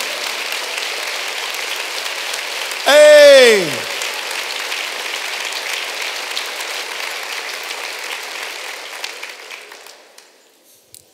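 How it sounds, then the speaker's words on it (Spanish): A church congregation claps in sustained, dense applause that slowly tapers away, with a loud voice shouting briefly near the start over it. "Denle un aplauso al Señor."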